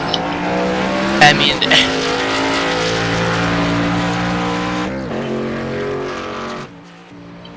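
Race cars roar loudly on an oval track during a wreck, engines howling with tire squeal and a sharp crash impact early on, the noise fading out near the end.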